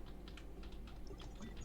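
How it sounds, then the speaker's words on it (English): Quick, light keystrokes on a computer keyboard, a steady patter of soft clicks typed close by and quietly, with no voices. "Do the typing first and then talk to us afterwards."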